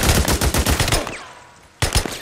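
Rapid automatic gunfire from the video game Days Gone rattles in a loud, dense burst for about a second, drops to a quieter lull, then resumes with more shots near the end.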